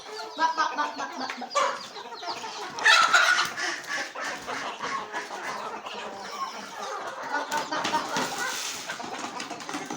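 Native country chickens in a household flock cluck and squawk in a busy, continuous chorus, fairly close and loud, with a few sharper calls standing out.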